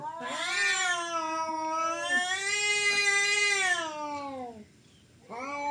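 A cat yowls in long, wavering drawn-out cries, close and loud, with a brief pause before another yowl starts at the end.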